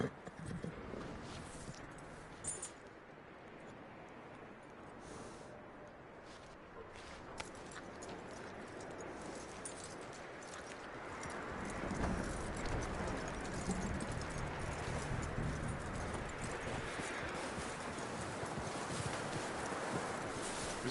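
A horse's hooves clip-clop at a walk in the open world of Red Dead Redemption 2, faint and steady under a wash of wind and ambient outdoor noise, with no talk.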